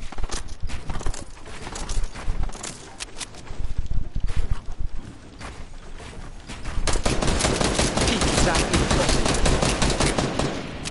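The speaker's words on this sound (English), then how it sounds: "Somebody's underneath shooting him down" Gunfire in a shooting video game: near, loud shots crackle in irregular bursts, then give way to a dense, sustained stretch of rapid automatic fire toward the end.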